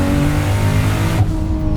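A turbocharged 2JZ engine in a MK3 Toyota Supra revs hard and loud up close, roaring through a short burst before cutting off abruptly, leaving a lower rumble.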